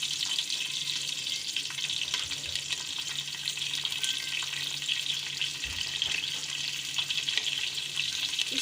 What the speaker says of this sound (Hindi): उसमें हम प्याज डालेंगे और इसको फ्राई करेंगे।